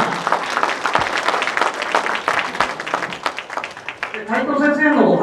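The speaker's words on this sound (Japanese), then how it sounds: "海藤先生にもう一度ですね、大きな拍手をお送りください" An audience applauds after a lecture at an anti-nuclear rally, the clapping loud and steady under continuing talk from the host before swelling fuller toward the end.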